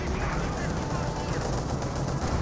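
Grenadiers fire on conscripts in Company of Heroes 2, a dense, continuous rattle of machine-gun and rifle fire that stays loud and close throughout the short stretch, with a voice talking over it.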